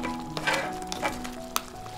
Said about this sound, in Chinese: 拌炒均匀，让每一块蟹肉都裹满酱汁